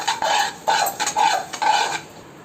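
A spoon scrapes and stirs a thickening poha, jaggery and milk laddu mixture in a metal pan, in four rhythmic sweeping strokes, close and fairly loud with no voices.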